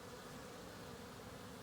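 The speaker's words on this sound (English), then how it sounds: "I was so worried that I lost these bees, and they are just rebuilding like you wouldn't believe right now." Cordovan honey bees at a rebuilding hive make a dense, steady buzzing drone that fills the space without pause, soft and continuous with no voices.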